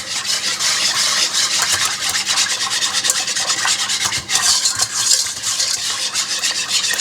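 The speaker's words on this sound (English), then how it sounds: "And I'm just mixing this all up." A whisk is scraped and stirred briskly through a mixture in a pot, giving a loud, continuous rasping swish close by with a small dip partway through. No one speaks.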